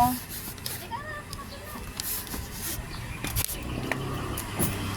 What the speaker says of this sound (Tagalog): Sakay kami ng tricycle na po